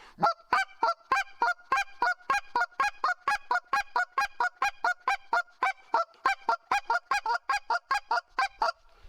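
A rapid, steady series of nasal honking clucks from a mallard duck call, double-cluck paired notes repeating dozens of times, close and loud.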